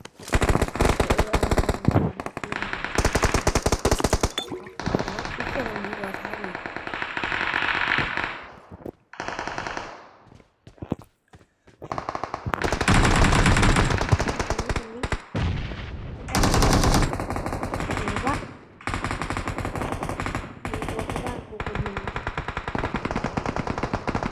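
Rapid automatic gunfire from PUBG Mobile, loud and dense bursts running nearly the whole time with brief pauses and short lulls between volleys.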